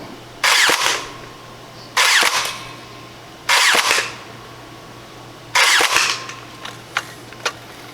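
A Colonel Wasp 76 AEG blaster firing bamboo darts: four separate loud bursts, each a short rattling volley, spaced a second or two apart over a steady low motor hum, with a couple of faint clicks near the end.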